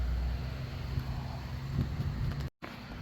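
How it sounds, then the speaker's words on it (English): Steady wind rushes and buffets the microphone outdoors during spray painting of an Estes Star Orbiter model rocket, a continuous low roar with a brief dropout near the end. "Of course, it being windy out here don't really help."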